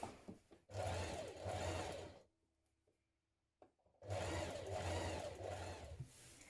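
A sewing machine runs a 1.5 cm seam through three layers of fabric for dungarees. Two close, brisk bursts of stitching are split by a short pause.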